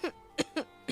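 Four short, dry coughs from a child with a cold in quick succession, close and fairly soft, with quiet gaps between them.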